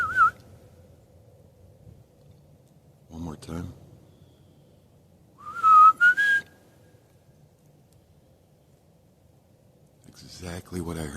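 A person in the forest whistles a short rising call in imitation of a whistle heard there, with brief speech bursts before and after and a faint opening whistle note.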